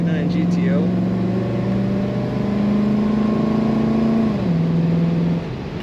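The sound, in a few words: 1969 Pontiac GTO engine accelerating, four-barrel carburetor opening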